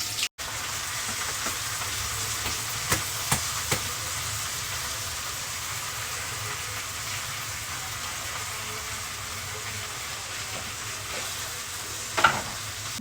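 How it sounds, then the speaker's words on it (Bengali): Chopped onions fry in ghee with a constant, close, even sizzle, broken by a few faint clinks from stirring. No voices. "ঘির মধ্যে এখন দিয়ে দিব পেঁয়াজ কুচি। পেঁয়াজগুলোকে একটু বেরেস্তা করে নিব।"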